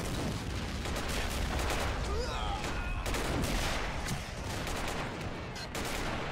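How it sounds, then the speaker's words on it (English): Dense, continuous artillery and gunfire from a large Toy Army Men video game battle on a Game of Thrones map, a loud, unbroken barrage of blasts and booms. "Still taking a lot of artillery."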